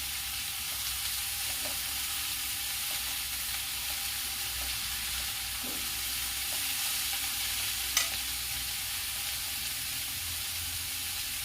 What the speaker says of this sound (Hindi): इसे मैं अच्छी तरह चला दूंगी।